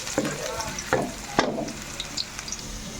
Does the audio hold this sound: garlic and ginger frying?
yes